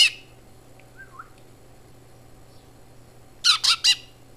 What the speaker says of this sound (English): Morning chat. You're a chatty bird.